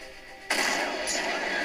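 A tank cannon shot in the mobile game Tank Stars 2 hits with a sudden loud blast, then a sustained rushing roar that fades slowly, with no voices over it.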